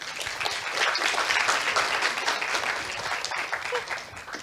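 Audience applause fills a comedy show venue, a dense, steady wash of many hands clapping for several seconds before tapering slightly at the end.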